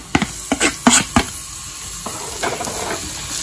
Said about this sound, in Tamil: ஸோ எண்ணெய் கொஞ்சம் ஹீட் ஆயிருச்சு, ஆனியன் போட்டு வதக்க போறோம்